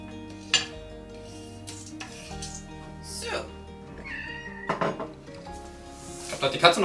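A cat meows several times among kitchen clatter of dishes and utensils, with someone talking nearby.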